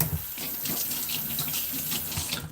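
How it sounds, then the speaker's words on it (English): Raw shrimp rinsed under a running kitchen tap, a steady close hiss and splash of water falling into a sink, continuous and unbroken, with no talking. "So I am going to rinse this off."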